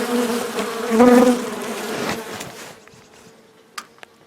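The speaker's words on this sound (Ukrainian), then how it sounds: "клуб розпався, бджоли почали активно реагувати" A close, dense buzzing of many honeybees in a winter cluster swelling and then fading away, followed by a couple of small clicks.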